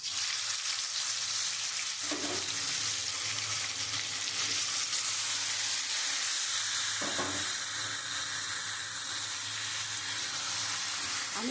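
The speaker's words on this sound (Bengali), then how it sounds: "আমি ওই তেলের মধ্যে আমি এবারে মাংসটা যে আমি মেখে রেখেছি ওইটা আমি দিয়ে দেবো" Marinated chicken pieces hit hot oil in a pan for a Bengali chicken kosha, setting off a steady, loud, continuous sizzle and frying crackle with a couple of brief stirring clatters, no voices.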